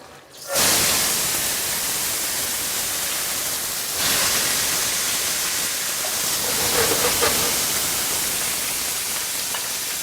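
Langoustines searing in a couple of tablespoons of oil in a smoking-hot pan: a loud burst of hissing sizzle erupts at once and roars on steadily throughout, with no voices.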